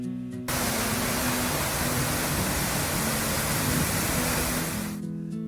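Bridal Veil Falls, a roadside waterfall near Skagway in Alaska, pours as a steady, loud, broadband roar that fills the whole stretch, with a faint low hum underneath. No one speaks.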